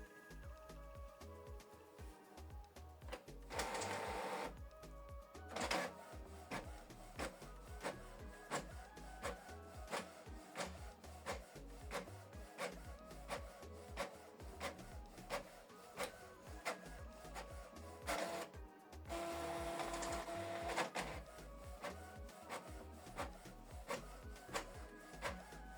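A Canon TS6550i inkjet printer prints a two-sided page. The mechanism whirs and clicks steadily and close by, with longer bursts of motor noise as the paper feeds and flips.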